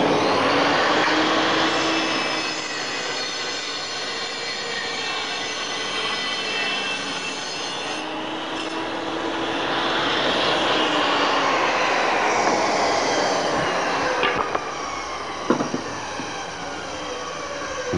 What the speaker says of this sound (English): Switch on and make your cut.